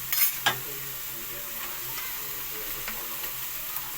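An older sponge gourd (patola) goes into a hot frying pan, giving a steady close sizzle. A sharp burst comes at the start, then a low even hiss continues alone with a few small crackles.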